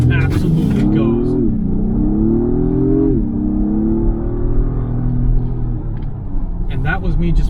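A 2022 Acura MDX Type S in Sport Plus mode accelerates under moderate throttle, its engine note rising in steady harmonic pitch, dipping at a shift near three seconds, then climbing again as a loud, close drone throughout.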